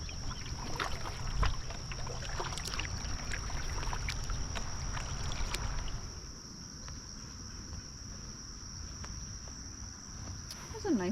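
A kayak moves across a calm, windless lake with soft, rhythmic paddle dips and gentle water trickles, while insects chirp steadily in the background.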